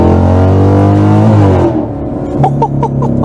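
A Chevrolet Camaro SS V8 engine revs loud and close with a deep, sustained roar, then drops back to a rougher, throbbing idle.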